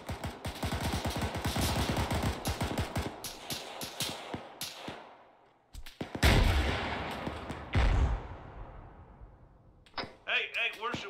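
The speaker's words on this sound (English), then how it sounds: "We're shot at." Arma 3 gunfire during an ambush in Chernarus, a dense burst of rapid shots through the first half, then heavier booming impacts near six and eight seconds, with voices talking over parts of it.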